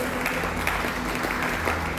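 A church congregation applauds during a sermon, a steady dense wash of clapping that carries on unbroken throughout.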